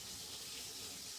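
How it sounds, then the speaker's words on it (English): Hot tap water runs steadily from a faucet into a sink to rinse off hands, a constant close hiss with no pauses and no talking. "I'm at my sink rinsing this really quick"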